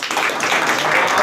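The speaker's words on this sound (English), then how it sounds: "a big applause" A gathering at an ISKCON temple claps in brief, loud applause, a close, dense patter of hands with a voice faintly mixed in.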